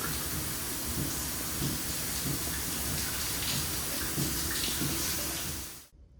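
Cruise ship spa shower on the Disney Wonder pouring like a tropical downpour, a dense, steady hiss of falling water with low rumbling, no talk, cutting off abruptly near the end.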